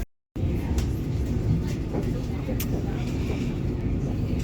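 Steady rumbling interior noise of a train running on the New Mills Central line in Greater Manchester, a constant low roar with faint rattles throughout after a brief silent start.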